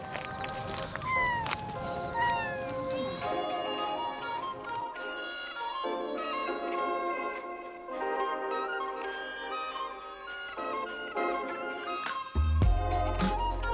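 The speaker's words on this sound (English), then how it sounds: "There's a collection of cats over there for some reason." Several cats meowing and mewing at a roadside spot in Kyoto, Japan, with repeated high, drawn-out cries close by and one cat answering another over steady outdoor background noise.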